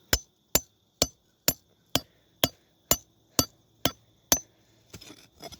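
About ten sharp hammer strikes land at a steady, even pace while building a dirt bike jump, each a crisp ringing knock, followed by a little scraping and rustling.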